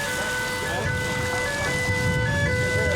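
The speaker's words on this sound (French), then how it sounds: "une balise de détresse retentit sur toutes les fréquences radio" A distress beacon sounds over radio channels during a Provence wildfire in summer 2016, heard as steady electronic tones with wavering pitch sweeps running through the whole stretch over a constant noisy background.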